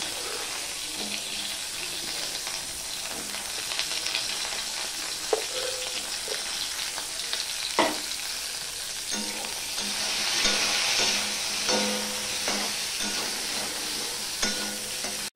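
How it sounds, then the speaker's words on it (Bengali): Small whole okra frying in white oil in a home kitchen pan, a steady sizzle with occasional stirring clicks and a brief rush of running tap water partway through, no talking. "এবার সবার প্রথমে আমি ভেন্ডিগুলো ভেজে নেব।"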